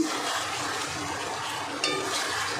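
Fried pointed gourd is stirred into a spicy koi fish gravy in a pan, giving a steady bubbling sizzle with soft scraping, close and moderately quiet, no talking.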